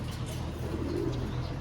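Racing pigeons coo softly in a loft, a low, murmuring burble that repeats through the short stretch alongside faint background noise.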